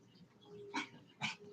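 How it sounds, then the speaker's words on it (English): A dog gives two short, sharp barks about half a second apart, fairly faint against quiet indoor background hum. "Who are you barking at?"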